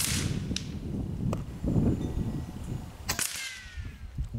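FX Airguns Lil' Slugger PCP bullpup air rifle firing 33-grain slugs: a few sharp, close cracks spaced about a second apart over faint background noise, with no speech.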